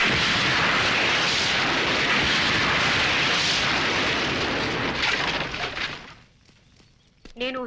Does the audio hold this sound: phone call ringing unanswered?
no